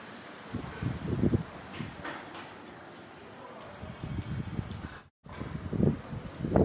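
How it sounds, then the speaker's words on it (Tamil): Gusty cyclone wind in Chennai roaring against the microphone in uneven bursts, with rustling and a brief dropout midway. "டைம் ஆக டைம் ஆக பிச்சு உதறது காற்று"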